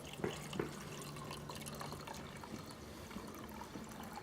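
Cold tap water runs into a cooking pot with a faint, steady trickle and a few drips, quiet and close, with no talking.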